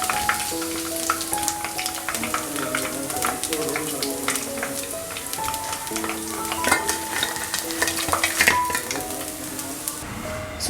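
Chicken lollipops frying in a pan of oil, a loud, dense crackling sizzle with popping bursts throughout, close up, with faint tonal background music underneath.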